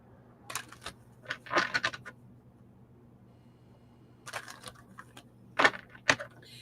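Tarot cards being shuffled by hand, quick papery riffles and taps in several short bursts with pauses between, close and fairly quiet, with no voices.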